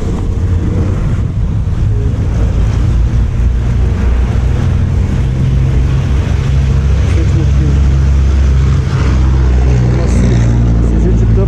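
A motorcycle engine, a Honda Titan, idles steadily and close, its low rumble continuous throughout, with light background noise and occasional voices underneath.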